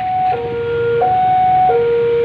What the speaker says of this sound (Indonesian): dan suara sirine sudah dinyalakan.